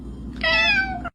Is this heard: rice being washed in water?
no